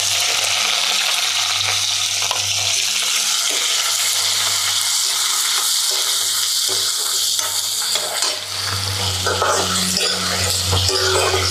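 Onion frying in a pan: a steady, loud sizzle with crackling and bubbling that holds throughout, with occasional stirring scrapes and no talk.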